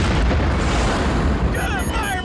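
Fuel tanks go up in a movie explosion, a loud, sustained roaring boom that rumbles on continuously with crackling debris and blast noise, and a faint voice briefly under it near the end.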